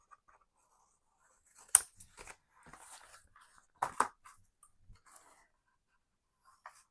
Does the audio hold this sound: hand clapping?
no